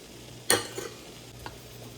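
Spoon stirring tempered dal in a home kitchen while making an evening dhokla meal: one short sizzling, splashing burst followed by a few soft scraping clinks against the pot, fairly quiet and close.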